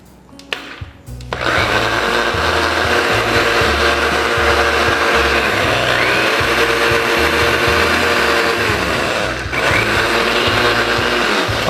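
An electric blender whirs up to speed, blending peri-peri sauce with vinegar and parsley leaves, after a brief clatter at the start; loud, close and steady, with the motor pitch shifting as the contents churn.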